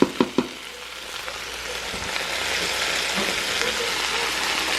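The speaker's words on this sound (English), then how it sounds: "and then let it cook down" Food with slow-cooking seasoning cooking down in a Cosori multi-cooker, a few sharp clacks at first, then a steady close sizzle and hiss that holds through to the end.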